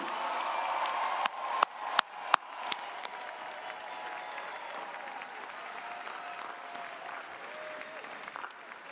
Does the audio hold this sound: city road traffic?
no